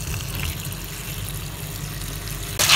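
Water poured over dried tapioca in a vessel, a steady close splashing and trickling flow that swells louder and brighter near the end, with no voices.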